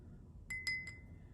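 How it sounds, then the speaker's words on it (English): Small glass clinks from a spoon stirring homemade perfume oils in a glass, three light taps in quick succession close up over a faint background hum. "as you kind of stir it together"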